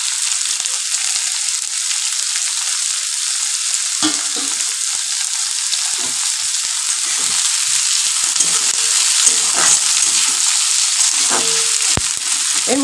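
Chopped onion fries steadily in hot oil, a continuous dense sizzle with occasional scraping stirs, close and alone without any voice.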